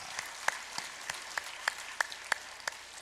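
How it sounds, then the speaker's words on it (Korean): Sparse, scattered clapping from a church congregation at a Sunday service, welcoming newcomers; individual claps stand out in an uneven rhythm rather than a full wash of applause, fairly quiet and with no talk over it. "박수로 환영합니다"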